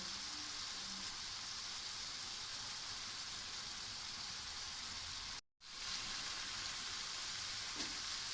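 Chicken tikka kabab pieces shallow frying in a pan give a steady, dense sizzle that holds evenly throughout, broken only by one very short dropout, with no voices over it.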